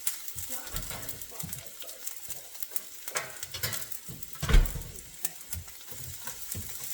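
Onion frying in olive oil in a pan, a light continuous sizzle with scraping spatula strokes and utensil knocks, one louder clank, while a person talks nearby.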